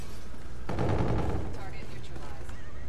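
Gunfire in the shooter game Infinite Warfare during an objective-capture match, a sudden loud burst of rapid shots starting partway through and continuing as a busy, dense volley with game voice callouts mixed in.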